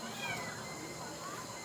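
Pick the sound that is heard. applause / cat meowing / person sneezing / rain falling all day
cat meowing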